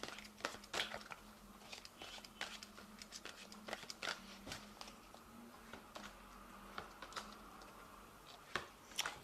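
Cards drawn and shuffled from an Angel Tarot deck, quiet crisp flicks and snaps of card stock in irregular bursts, with a faint steady hum underneath.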